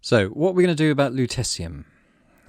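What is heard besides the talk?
No everyday noises stand out.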